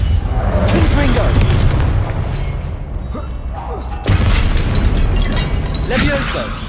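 A Confringo fire-blast spell in the Hogwarts Legacy video game: a loud booming burst with rumbling crackle amid ongoing combat noise, then a second heavy blast, with a voice shouting over it.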